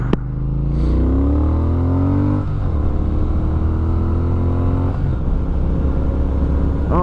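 Triumph Speed Twin motorcycle climbing uphill at high altitude, engine note close and steady, rising in pitch through the gears with shift breaks between pulls.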